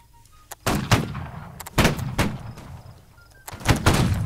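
Several loud musket shots in the Napoleonic-era battle game Holdfast: Nations at War, spaced irregularly across a few seconds. Each is a sharp crack followed by a rolling boom, some nearer and some farther off, with faint tones and quiet pauses between.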